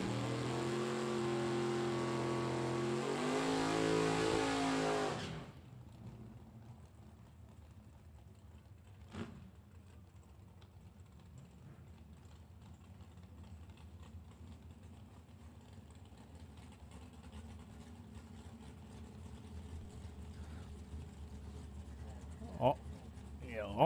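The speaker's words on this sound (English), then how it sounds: "Door cars on the starting line running right now" Drag-racing door cars sit on the starting line at a Super Pro event. A loud, throbbing engine roars for about five seconds, then cuts away to a faint, distant hum with a few small knocks.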